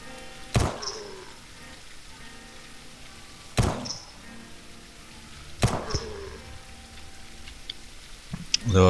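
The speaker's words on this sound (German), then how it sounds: "Es regnet, was ich hasse" Steady rain falls in the video game Surroun Dead, a soft continuous patter broken by three sharp swooshing impacts spaced a couple of seconds apart, with a faint voice in the background.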